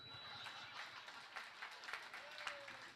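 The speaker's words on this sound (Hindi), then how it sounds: "तालियां थोड़ी कमजोर है आप लोगों।" A live audience gives weak, scattered applause, the claps thin and faint with a few louder patters coming through.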